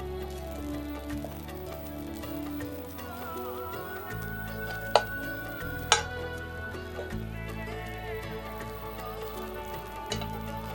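Fish pieces frying in hot oil, a steady, close crackling sizzle with a couple of sharp ticks from pieces being placed, under a low background hum.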